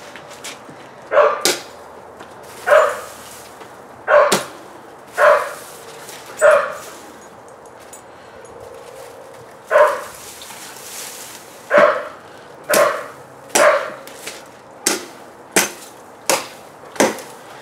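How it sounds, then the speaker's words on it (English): A neighbor's dog barks in the city, about a dozen sharp barks at steady intervals with a short pause near the middle, clear and moderately close in an otherwise quiet setting. "That's actually the neighbor dog."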